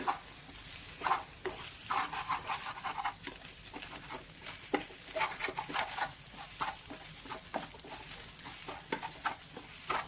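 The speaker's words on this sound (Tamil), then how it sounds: "நல்லா ஒரு ரெண்டு நிமிஷத்துக்கு நல்லா கலந்து விட்டுக்கோங்க கலந்துட்டே இருங்க" Banana flower and egg poriyal being stirred in a pan, with repeated scraping strokes of a spoon against the metal over a soft sizzle, in an irregular rhythm close up and without speech.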